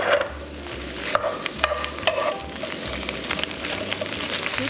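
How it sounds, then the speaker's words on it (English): Chopped bok choy and sliced mushrooms fry in a tablespoon of oil in a pan, a steady close sizzle broken by several sharp clatters and scrapes of stirring, with no voices. "Let's add in a tablespoon of oil and we'll add in our 2 cups of bok choy that are roughly chopped."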